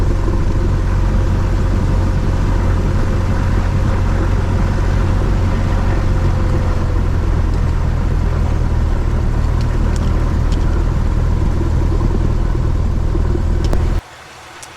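Engine of a small training airplane running steadily during a flight lesson, a constant loud low rumble heard from inside for about fourteen seconds before it drops away sharply.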